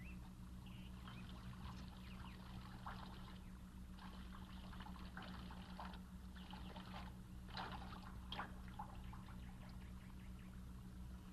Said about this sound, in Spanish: el agua sale por los agujeros inferiores como pequeña ducha